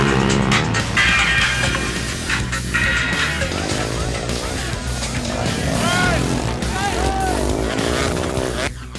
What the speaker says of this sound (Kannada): ಸಹಕಾರ ನಗರದ ಮೋಟೋ ಸ್ಪೋರ್ಟ್ಸ್ ಪಾರ್ಕ್ನಲ್ಲಿ ಬೈಕ್ಗಳ ಭಾರಿ ಆರ್ಭಟ